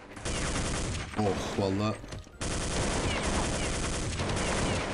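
Rapid gunfire from Counter-Strike 1.6 rattles loudly in sustained bursts, breaking off briefly while a man exclaims, then resuming as a dense, continuous burst.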